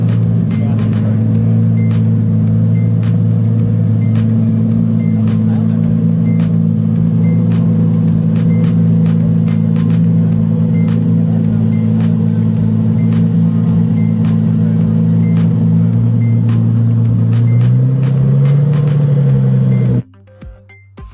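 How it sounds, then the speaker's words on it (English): A Ferrari runs at a Newport Beach, Orange County supercar show as it winds down. A loud, steady engine note holds close by and rises slightly before cutting off abruptly, with faint voices around it. "Ferrari starts up as Newport Beach Orange County Car Show comes to a close."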